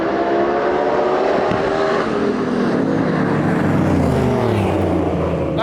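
A 4-door Ford LTD race car drives around a track, its engine drone rising and shifting in pitch as it passes nearby, loud and steady throughout with no talking.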